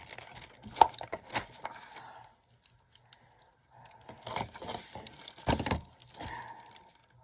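Scissors snip and crinkle along the edge of a paper decoration in a craft journal, with quiet, close, irregular bursts of cutting and paper rustle separated by a short pause.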